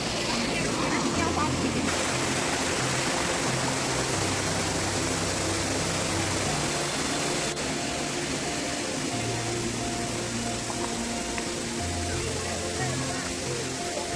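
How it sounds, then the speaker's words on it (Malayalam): Purling Brook Falls waterfall pours in a steady, dense rush of water that fills the whole clip. It is continuous and fairly loud, and a voice is talking over it. "ഈ വെള്ളം ചാടുന്നതുകൊണ്ട് ഇതൊരു വെള്ളച്ചാട്ടമാണ്"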